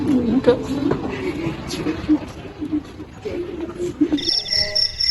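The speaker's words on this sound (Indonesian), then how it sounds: "hanya terdengar suara jangkrik yang bersahutan" Crickets chirp steadily, calling back and forth in the background of a quiet night in a dramatized story, overlapped by low murmuring voices, with a sharper high trill joining near the end.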